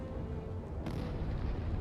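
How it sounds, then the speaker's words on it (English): A secondary explosion goes off aboard a heavily damaged warship in the naval combat game Sea Power: a deep, sustained rumble with one sharper burst partway through, heard alone. "There's another secondary explosion."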